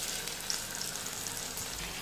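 Chicken pieces sizzling loudly in hot oil as they go into reddened fried onions, a steady close-up frying hiss with faint stirring and no voices.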